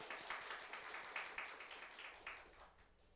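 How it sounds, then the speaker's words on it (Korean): A church congregation claps in a faint, scattered burst of applause, the quick hand claps tapering off over a few seconds. "박수로 축복하겠습니다."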